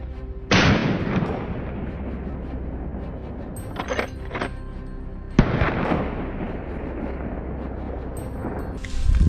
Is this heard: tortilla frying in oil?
no